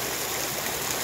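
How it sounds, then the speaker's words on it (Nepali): Water tumbles down a roadside waterfall in Makawanpur, an even, close rushing and splashing wash without pause or voices. "ल यसरी पानी झर्या रहेछ होइन"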